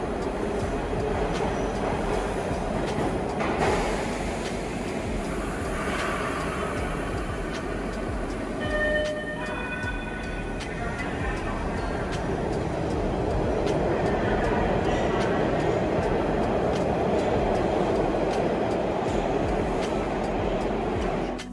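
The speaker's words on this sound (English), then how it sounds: "play some clips of some trains at Tufts Medical Center" MBTA Orange Line subway trains rumble through Tufts Medical Center station, a continuous loud underground roar with rail clatter, brief squeals and faint voices in the background.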